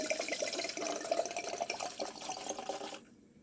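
A full bottle of Malbec poured into a carafe, a steady close liquid gurgle and splash that stops abruptly near the end.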